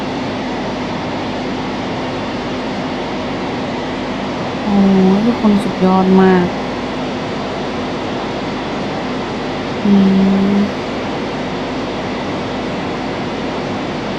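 A steady low rumble of a steam train runs throughout while its horn-like whistle sounds twice, first in a short broken burst, then once more, with brief speech.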